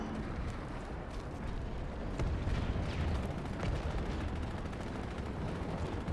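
Dense, continuous incoming air fire in the Planetside 2 video game, a steady rumble of gunshots and blasts that thickens slightly midway, with no voices over it.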